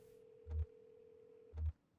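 A haunted telephone in the video game Kentucky Route Zero rings twice in short, evenly spaced bursts over a steady low tone, with no talk.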